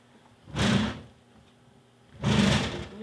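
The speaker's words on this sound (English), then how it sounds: "So this is how the door opens." A computer case door being opened, two separate broad bursts of movement noise close by, each about half a second long, with quiet between them.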